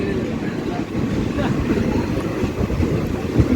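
The Hussain Sagar Express rumbles steadily while pulling out of Vikarabad Junction station, a continuous close rolling noise with faint clatter, and a voice talks over it.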